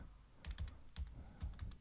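Computer keyboard keys pressed repeatedly at close range, in quick pairs and single taps with short gaps, crisp clicks over a quiet room.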